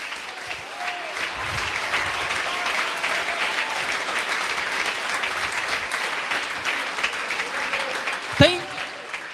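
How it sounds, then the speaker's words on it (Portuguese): Congregation applauding during a church mission service in Fortaleza, a steady wash of clapping lasting throughout with voices murmuring underneath and a brief louder thump near the end. "Dê uma salva de palmas para Ele."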